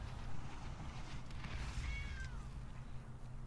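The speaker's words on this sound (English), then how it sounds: "Damn zombie cats." A zombie cat in the MTG Arena card game gives a short, rising, synthetic-sounding meow around the middle, laid over a steady bed of game music and ambience.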